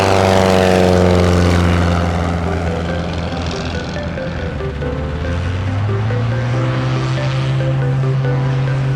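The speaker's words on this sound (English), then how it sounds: "This beautiful plane is about to take off." A loud propeller airplane engine drones close by at the edge of a runway before takeoff at Triple Tree Aerodrome's 2022 fly-in, its steady pitch dipping and then rising again as it revs.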